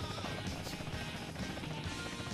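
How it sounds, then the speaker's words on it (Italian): A helicopter in the video game GTA San Andreas (DYOM mission) gives a steady, loud rotor and engine drone that fills the whole stretch without a break, with no talk over it. "Vado di qui e prendo questo bel elicottero."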